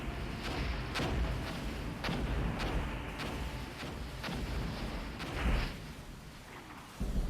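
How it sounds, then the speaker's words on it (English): High-explosive and smoke artillery rounds land in an Armoured Brigade battle during a Soviet assault at Fulda, heard as a series of dull, rumbling booms over a constant low roar, with several distinct impacts scattered through the clip. "We can also see the high explosives coming in over here"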